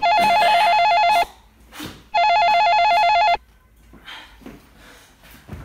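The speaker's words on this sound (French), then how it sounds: "Ah, le téléphone qui sonne." A telephone bell rings in two loud, sustained electronic bursts with a pause between, followed by quieter room sounds.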